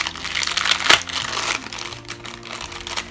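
Paper envelope of teas being opened, crinkling and rustling up close with a sharper crunch near the middle, continuing as softer handling noises.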